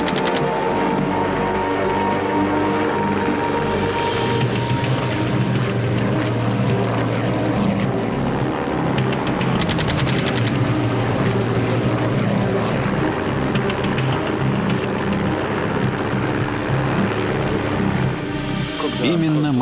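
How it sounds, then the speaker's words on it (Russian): WWI-era propeller aircraft, a German fighter attacking a Russian Ilya Muromets bomber, roaring piston engines and droning airscrews throughout with bursts of rattling gunfire, loud and continuous under a narrating voice. "Первый немецкий истребитель появился на 150 метрах выше Муромца и начал атаку."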